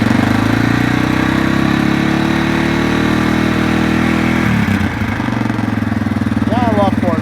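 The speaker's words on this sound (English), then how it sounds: "So I'm just gonna do a quick cold start on this thing, pull the choke." A 2003 Yamaha TTR225 four-stroke trail motorcycle runs on choke after a cold start on a chilly morning, with a steady, close, throbbing idle that shifts slightly in pitch partway through.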